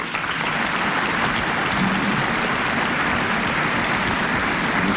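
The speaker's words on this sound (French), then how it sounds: "il va entendre, ce qui est quand même rare dans l'histoire des grosses têtes, les applaudissements de 1000 personnes" Thunderous applause from a radio studio audience of a thousand people, a dense, continuous roar of clapping that stays loud and even from start to finish.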